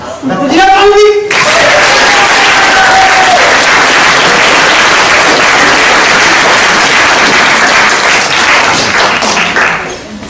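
A dense, loud wash of audience applause at a French comedy show, starting after a brief vocal sound and holding steady for about nine seconds before easing off.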